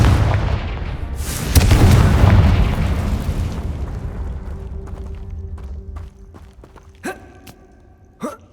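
A Confringo fire spell in Hogwarts Legacy bursts with a loud boom that rolls into a long fading rumble, followed by a couple of sharp smaller impacts near the end.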